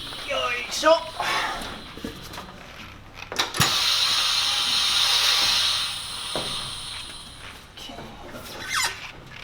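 A tire changer machine's head lowers with a sustained pneumatic hiss lasting a few seconds after a sharp click, amid shop noise and speech before and after.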